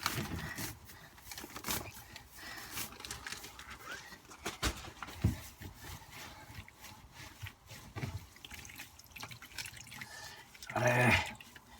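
Water is poured over hay to soak it, with scattered drips, patters and trickles plus a brief louder splash near the end, close but fairly quiet, with no talk.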